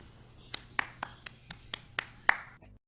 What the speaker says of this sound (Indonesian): Oke, tepuk tangan dulu biar semangat.